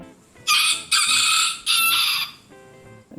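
A rooster crows loudly and close in a sound effect, three strident, drawn-out calls in quick succession followed by a shorter, fainter tail.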